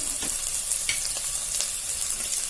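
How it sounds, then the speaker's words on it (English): Onions frying in a pan for dal, a soft steady sizzle and crackle with occasional small pops and stirring, close and unbroken. "the onions have been cooking for a few minutes now and they're getting translucent and nice"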